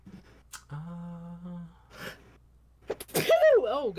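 Someone speaks, then a sudden loud sneeze bursts out near the end, followed immediately by more voices.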